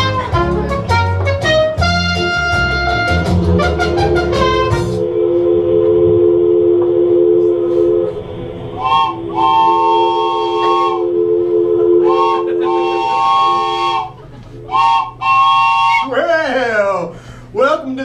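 At a live sketch comedy show, a loud, sustained train whistle blares over low rumbling machinery, then shorter whistle toots and shifting tones follow, with voices mixed in.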